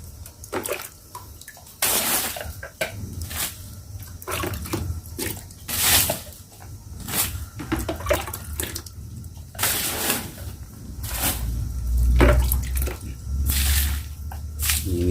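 Fermented banana liquid fertilizer is flung in repeated wet splashes into a planting pit in a Thai banana garden, each throw a loud slosh separated by short pauses, with faint background rustle.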